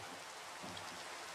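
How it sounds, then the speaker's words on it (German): Steady rain in the video game Minecraft, a dense even hiss of falling drops that holds at the same level throughout, with no voices over it. "der Regen nervt ein bisschen."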